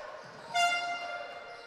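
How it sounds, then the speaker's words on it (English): Air horns blare inside a basketball gym during a Grade 9 championship showcase game, a loud tonal honk bursting in over crowd noise and lingering for about a second. "Got the horns in the building."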